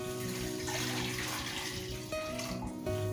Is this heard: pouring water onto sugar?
yes